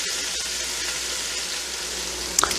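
Beef braciole rolls sear in a hot pan with a steady, close broadband sizzle, and a couple of brief clinks sound near the end.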